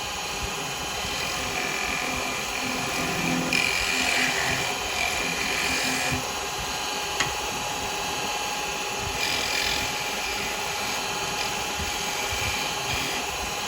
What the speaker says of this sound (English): so come in with the detail chisel